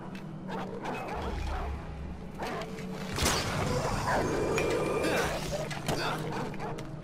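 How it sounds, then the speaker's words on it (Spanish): A dog barks in Far Cry 4, several short barks scattered through the moment, sitting at moderate distance among game ambience and mechanical noises. "Suena un perro."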